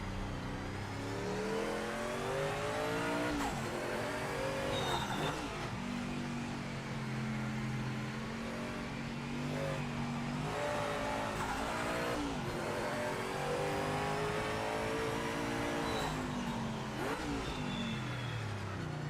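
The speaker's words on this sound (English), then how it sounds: "Love the sound of this car." A racing car engine in the video game Project Motor Racing screams through repeated gear changes, pitch climbing and dropping in cycles, loud and continuous with no talking.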